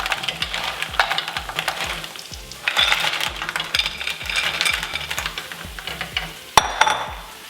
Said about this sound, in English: Stir it in. Make sure it gets covered in the garlic.